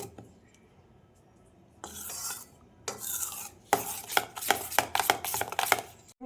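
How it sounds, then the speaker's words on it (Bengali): A knife chops garlic on a cutting board while making bread pakora. Soft scraping gives way to a run of sharp, quick chops that grow denser and louder in the second half, with no voices. "কিছু রসুন কুচি করে নিলাম"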